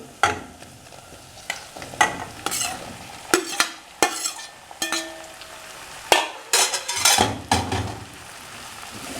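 Onions and button mushrooms fry in a pan for a Tunisian macaroni dish, a soft sizzle broken by repeated scraping stirs and occasional utensil clinks against the pan, close and clear with no talking.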